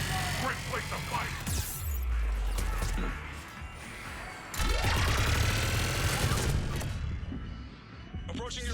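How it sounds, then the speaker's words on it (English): Gunfire in a Mass Effect 3 firefight: bursts of automatic weapons and heavy impacts crackle and crash in dense volleys, with a whooshing effect midway, and voices talk over the combat. "Just following the gunfire."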